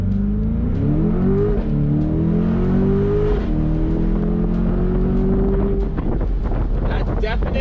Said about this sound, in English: I'm gonna hang back from the Subaru because there's a straightaway here and I wanna test the acceleration.